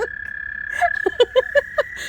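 Several short croaking calls sound in a quick irregular series over a steady high-pitched hum, like toads calling close by at a pond.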